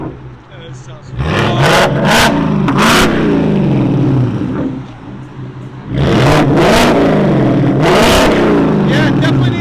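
A 2024 Ford Mustang GT with a 5.0L V8, Corsa Double Helix exhaust and muffler delete revs up loudly and close by in two sustained pulls, the engine roar swelling and dropping between them.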